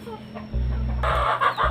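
Chickens on a poultry farm cluck and squawk in short, close bursts over a low steady hum, the calls growing louder and busier partway through.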